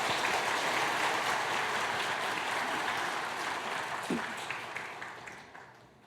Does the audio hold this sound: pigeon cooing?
no